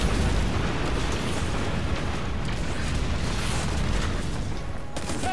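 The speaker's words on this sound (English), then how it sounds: "Missiles! Stay inside my shield!" Missile explosions in Destiny 2 keep up a dense, continuous roar of overlapping blasts and rumbling booms, loud throughout with no clear gaps and no talking.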